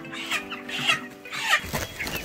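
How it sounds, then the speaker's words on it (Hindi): Broiler chickens and a rooster on a poultry farm cluck in short, close bursts of fairly quiet, repeated calls, with no talking over them. "ये देखिए दोस्तों 4 मुर्गी हैं और एक मुर्गा है"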